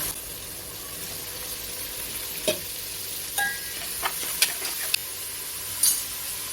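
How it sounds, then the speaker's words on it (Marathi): Onion frying in hot oil for a spicy Malvani mutton curry, a steady close sizzle with a few sharp clinks and scrapes from stirring. "त्याच्यावरती आता मी कांदो घालते"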